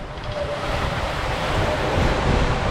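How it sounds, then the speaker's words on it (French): Large ocean waves and strong wind buffet a sailboat during a rough transatlantic crossing, a loud, steady roar of surf and wind noise swelling slightly toward the end, with no voices. "Là, il y a une vague qui arrive"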